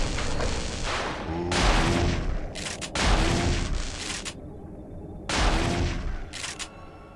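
Gunshots in Parasite Eve 2, several booming blasts spaced about every second or two, each with a short echoing tail, loud and near over a dull background rumble.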